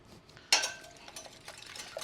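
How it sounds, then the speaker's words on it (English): A utensil stirs vanilla into brownie batter in a bowl, with a sharp clink on the rim and then soft, uneven scraping and tapping sounds, close and quiet, with no talking. "Give that a good mix again."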